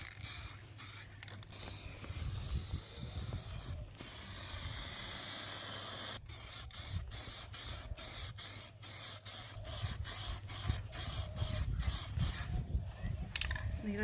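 An aerosol spray paint can hisses in long continuous bursts and short repeated pulses over a panel outdoors in a backyard, loud and close with steady rushing spray.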